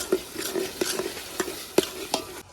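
Roasted potatoes frying and being stirred in a pan, with a steady sizzle broken by repeated sharp scrapes and clinks of a utensil at an uneven rhythm, close by and fairly loud, with no talking.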